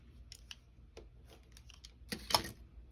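Scissors snipping a short piece of ribbon at a sewing table, quiet close cuts with a few light rustles and one louder crisp snip near the end.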